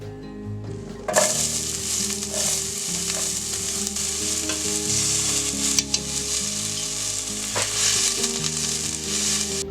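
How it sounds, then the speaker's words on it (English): Onion and garlic sauteing in olive oil in a pot, a loud, continuous sizzle that erupts as the ingredients hit the hot oil and holds steady throughout, with faint clinks and no talking. "I'm going to put in a couple tablespoons of olive oil, and I'm going to put my onion and my garlic in and let that saute for a few minutes"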